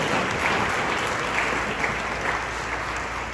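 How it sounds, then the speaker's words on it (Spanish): Audience applause at a church family gathering, a dense, even roar of many clapping hands sustained from start to finish. "Hay un aplauso por ustedes."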